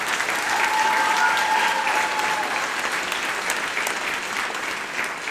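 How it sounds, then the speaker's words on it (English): Steady, dense applause from an audience at a fall middle school band concert at Selma Middle School. The clapping stays full and even throughout, with no voices over it. "One more round of applause for the amazing Adam Faulkner."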